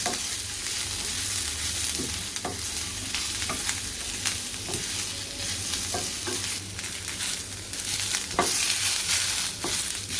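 Onion frying until brown in a pan for a drumstick and potato curry, a continuous close sizzle broken by regular sharp stirring clicks and scrapes.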